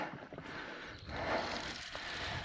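Small boat moving across a lake, with steady wind and water rush on the microphone and a low rumble throughout, swelling slightly louder in the second half, with no talking.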